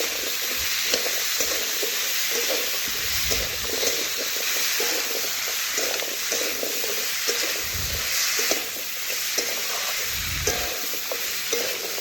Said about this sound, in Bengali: আমি ভালোভাবে নাড়াচাড়া করে সবজির সাথে মিশিয়ে নিচ্ছি